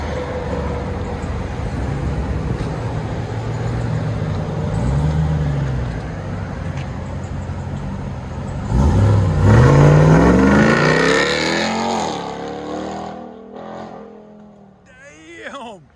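A Ram TRX pickup's supercharged 6.2L Hemi V8 rumbles loudly through a straight-pipe exhaust with an engine tick, then revs hard and fades, while people talk nearby.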